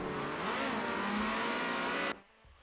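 A Ferrari 360 Challenge race car at Hockenheim revs hard and accelerates, its engine note climbing loud and close before cutting off sharply, leaving a faint distant hum.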